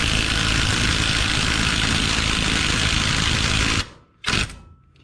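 An AOBEN cordless 1/2-inch impact wrench drives a fastener on high power with a loud, continuous hammering buzz for about four seconds, then cuts off, followed by one short final burst.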